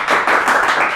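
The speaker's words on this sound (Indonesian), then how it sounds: "Mana tepuk tangannya?" A studio audience on a gossip talk show claps on request, a short, loud, close burst of hand clapping.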